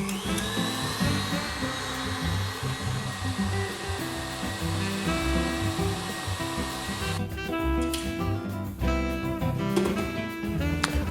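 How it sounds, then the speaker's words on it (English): An electric whisk runs on high, whipping matcha powder into a thick foam for a Dalgona-style iced drink; a steady, loud motorized whir with a rattling, buzzing texture that holds for the whole stretch. "Whisk on high for 2 minutes."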